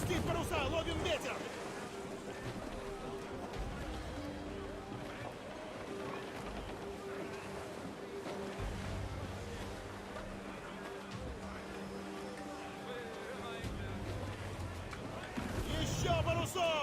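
A sailing ship in Assassin's Creed IV moving across open sea, with a steady wash of waves and wind running throughout while crew voices shout orders over it.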